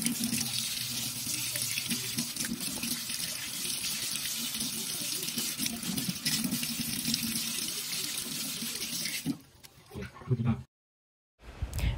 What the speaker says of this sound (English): we need to first rinse and wash all of the tubers.